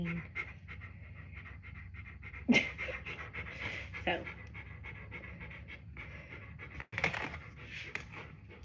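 A dog pants steadily indoors, close by and moderately loud, with a person speaking over the rhythmic breathing throughout.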